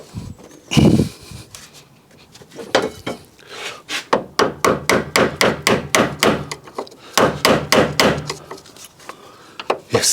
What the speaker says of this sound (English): I've had to hammer that in